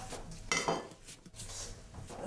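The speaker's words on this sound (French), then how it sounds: "sa mère fait la vaisselle" Dishes and cutlery clink and knock in a kitchen sink during washing up, in irregular close clatters with quieter pauses between them.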